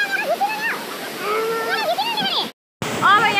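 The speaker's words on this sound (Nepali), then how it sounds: "हामी चाहिँ यहाँ फल्स आइपुग्यौँ" Rushing water at Neya Falls forms a steady roar throughout, with voices talking over it and a brief dropout near the end.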